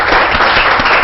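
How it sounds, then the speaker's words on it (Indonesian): An audience at an entrepreneurship seminar gives a short, loud burst of dense applause, a brief roar of clapping with no speech over it. "Sukses ya, tepuk tangan."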